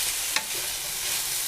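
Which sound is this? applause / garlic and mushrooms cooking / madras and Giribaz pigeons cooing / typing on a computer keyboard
garlic and mushrooms cooking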